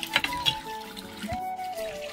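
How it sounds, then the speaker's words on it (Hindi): Water from a hand tap pours into a buffalo trough, a steady close splashing and trickling with a few bumps of the handle, heard alone. "मैं नल से पानी भर रहा हूँ चराही में भैंसों को दिखाने के लिए।"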